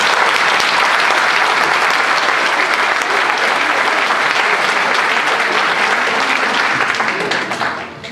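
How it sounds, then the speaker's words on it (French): A crowd at a municipal election rally applauds for Franck Beaumont, loud dense clapping that holds steady for several seconds and eases slightly at the end. "Je vous demanderai, avant que je commence mon propos, d'applaudir Franck Beaumont."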